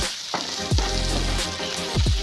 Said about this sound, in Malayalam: ഇതിൻ്റെ പച്ചച്ച ഒന്ന് മാറാൻ വേണ്ടി ഒന്ന് നന്നായി ഒന്ന് ഇളക്കി കൊടുക്കാം